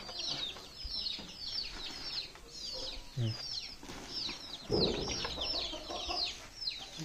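Village free-range chickens, including a rooster, clucking and rustling nearby with a few sharper calls and bursts of wing flapping, over faint background chatter.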